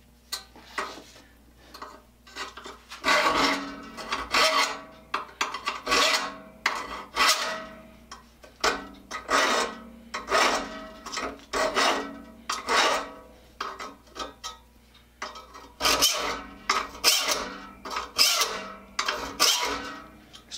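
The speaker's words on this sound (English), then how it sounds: "Now I'm going to be filing the alternate side of the alternate bevel teeth." Hand file sharpening the alternate bevel teeth of a handsaw, a long run of steady rasping strokes, each short and bright, repeating in an even rhythm with brief pauses between groups, close and clear with no talking.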